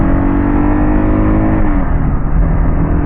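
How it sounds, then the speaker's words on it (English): A Gen 2 Kawasaki KLR650 motorcycle accelerates onto a highway, its engine droning steadily and loudly up close with rushing wind noise throughout and no speech. "Let's accelerate onto the highway."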